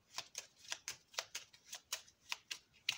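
Oracle cards from a tree-of-life deck are shuffled by hand in quick, even riffling flicks, about a dozen crisp close bursts in rapid rhythm, quiet and with no voices.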